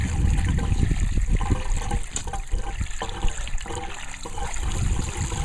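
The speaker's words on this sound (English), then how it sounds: "all the water's draining." Water draining from an opened pool filter during a pool closing, a steady broadband gush and trickle with gurgling, close and fairly loud throughout.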